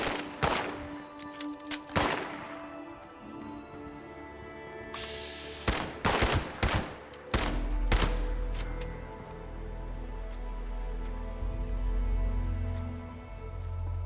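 Enemy gunfire in Fallout 76, sharp shots cracking in short clustered bursts across the clip with a low rumbling hit near the end, loud and close with no talking.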